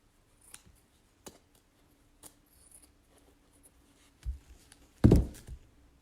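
Scissors snip through craft material for a Grinch gnome, a few sparse, crisp cuts spaced about a second apart in a quiet room, ending with a couple of louder thuds as something is set down.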